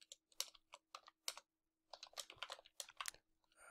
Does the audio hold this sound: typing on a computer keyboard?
yes